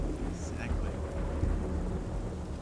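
Rain and rumbling thunder from a zombie-mode Call of Duty game, a steady loud downpour with low continuous rumble throughout and no talk.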